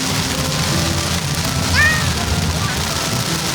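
Rain falling during a story scene in the Poppy Playtime video game, a steady dense patter throughout with a brief high cat meow in the middle and background voices mixed in.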